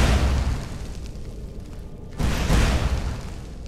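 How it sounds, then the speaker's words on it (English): Fire bolt spells in Skyrim burst with loud, close explosions, one big boom that fades out, then a second sharp blast about two seconds later followed by a rumbling tail. "Oh, they're fire bolts."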